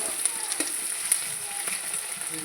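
Green chillies and onion fry in oil with a steady close sizzle, small pops and light stirring clicks throughout, no talking.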